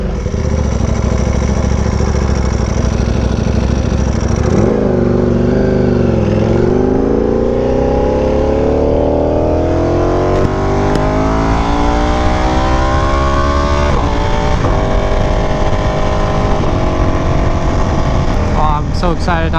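Ducati Panigale V4R motorcycle engine running loud and close, a steady roar that dips then climbs gradually in pitch as it revs up over about twenty seconds.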